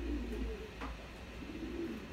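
Racing pigeons coo softly inside a loft, with low, rolling murmurs that sit faintly beneath a steady background hum.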